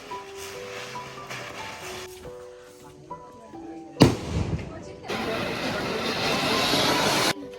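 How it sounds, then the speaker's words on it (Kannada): Firecrackers burst at a traditional Subrahmanya Shashti festival: a sharp, loud bang, then several seconds of dense crackling and hissing, following a stretch of background voices and music. "ಹುಡುಗರಂತೂ ಕೇಳಬೇಕಾ, ಬರೀ ಪಟಾಕಿ ಹೊಡೆಯೋದ್ರಲ್ಲೇ ಫುಲ್ ಬ್ಯುಸಿ ಆಗಿಬಿಟ್ಟಿದ್ರು. ಪಟಾಕಿ ಹೊಡಿತಾನೇ ಇದ್ರು"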